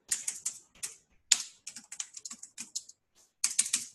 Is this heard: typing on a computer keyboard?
yes